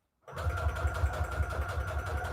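A sewing machine back stitches with a steady, fast mechanical whir and rhythmic needle pulses. It starts abruptly after a brief silence and runs continuously at close range.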